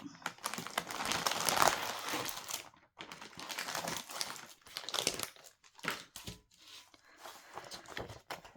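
Crinkly plastic packaging of a Painting Fairy cross-stitch kit being torn open and rustled nearby, in bursts of crackling with short pauses between them.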